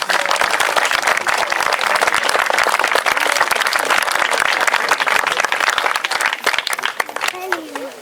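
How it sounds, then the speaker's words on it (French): Guests at a medieval-themed wedding at Château de Ventadour cheer and applaud after the blessing, with dense, loud, continuous clapping and scattered shouts from a close crowd, voices mixed in, tapering slightly at the end. "Les vivats peuvent y aller, les applaudissements."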